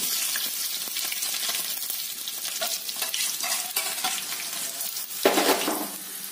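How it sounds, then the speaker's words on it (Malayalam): Onions with dried red chilies and fenugreek seeds fry in hot oil for a Kerala-style mango pulissery tempering, a steady loud sizzle with brief stirring scrapes and a short louder burst of crackling near the end. "ഉള്ളിയും കൂടി ഇടാം."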